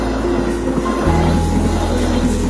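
A train rumbling along the rails with a steady low drone and sustained tonal squeal, loud and continuous throughout.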